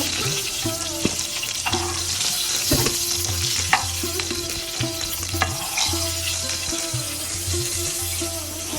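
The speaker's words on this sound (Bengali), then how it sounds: "আর আমার ইলিশ মাছ ভাজাটা হয়ে গেছে, আমি এখন নামিয়ে দিব।" Hilsa fish frying in hot oil in a pan gives a steady close sizzle, with occasional scrapes and clinks of a spatula stirring through it.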